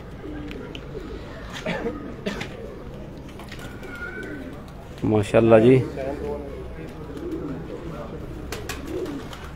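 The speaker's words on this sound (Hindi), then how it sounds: "11 के 11 कबूतर बैठ चुके ने जी" Pigeons coo from a rooftop loft where a flock of eleven has landed after a pigeon-flying event, with someone talking throughout and a louder burst of cooing partway through.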